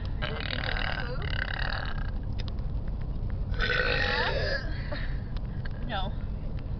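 Loud, drawn-out burps from kids close to the mic, several long croaking belches in a row with a raspy, voiced tone over steady background noise.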